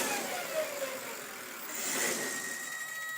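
A small engine on a bike-mounted alternator test rig runs near and steady, briefly swelling as a touch of throttle loads it and it starts to cog, with a faint whine layered over the engine hum.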